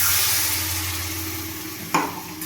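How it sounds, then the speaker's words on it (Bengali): Water splashes into a pan of sizzling spice paste near the end, cutting through a steady frying hiss with one sudden, louder burst of bubbling. "আমি এখানে মিক্সির জার ধোয়া জলটা দিয়ে দেব"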